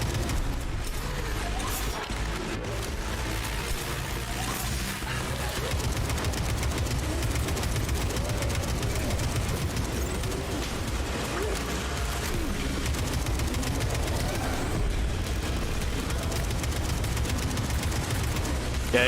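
Sustained automatic AK rifle fire in the Atomic Heart shooter game, dense bursts of gunshots running throughout amid game effects, loud and continuous.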